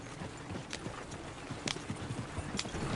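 Horse hooves clip-clop on the ground in Red Dead Redemption 2, a faint, uneven series of soft thuds with a few sharper knocks over a steady background hiss.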